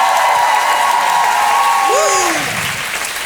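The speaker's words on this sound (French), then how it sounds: "Mieux qu'un orgasme, ces applaudissements-là." Loud audience applause fills a comedy show hall, a dense steady wash of clapping with some cheering that eases off slightly toward the end.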